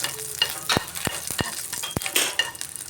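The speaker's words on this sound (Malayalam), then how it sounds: "വെളിച്ചെണ്ണ ചൂടാകുമ്പോൾ ഉലുവ ഇട്ട് കൊടുക്കണം ഉലുവ പൊട്ടിത്തുടങ്ങുമ്പോൾ ഒരു നാല് വറ്റൽമുളക്" Hot coconut oil sizzles steadily while fenugreek seeds and dried chillies give sharp pops and crackles at irregular moments, close up, with no voices.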